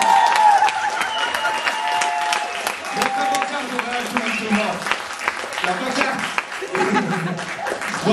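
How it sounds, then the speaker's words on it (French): Audience applause at a slam poetry league launch event in Poitiers, steady clapping from a crowd with some cheering and a few laughs, with a voice talking over it throughout. "On peut l'applaudir pour ça."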